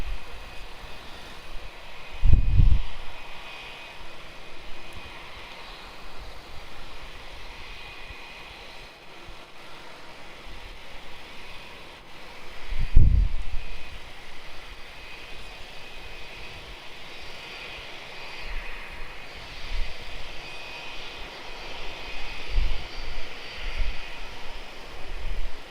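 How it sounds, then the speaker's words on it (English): A Sri Lankan Airlines jet on approach to land at Melbourne Airport gives off a steady, distant roar. The roar swells and fades gently, with a couple of brief low thumps. "Sri Lankan 604 requested to bring back to minimums, but he's already at minimums, so we may end up seeing a go around here."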